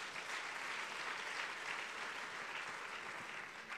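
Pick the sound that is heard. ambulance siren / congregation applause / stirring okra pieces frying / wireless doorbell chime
congregation applause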